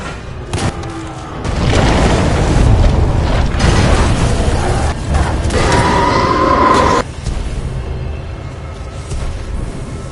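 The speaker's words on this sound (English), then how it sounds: "a series of explosions just weakened the manipulator arm." Loud, dense rumbling blasts roll on for several seconds, a booming series of explosions in Titanfall 2 weakening a manipulator arm, with mechanical clanks, then a quieter whirring tail.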